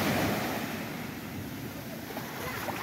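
Sea waves wash onto Pebbles Beach beside Carlisle Bay, Barbados, as a steady broadband surf roar with wind buffeting the microphone throughout.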